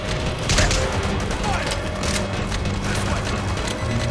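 Rapid shotgun fire from the Metal Gear Solid V: The Phantom Pain "Death Shotgun" glitch, a dense continuous barrage of booming blasts running steadily with no gaps, loud and close throughout.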